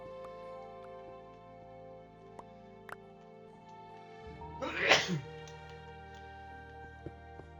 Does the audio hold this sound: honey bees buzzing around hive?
no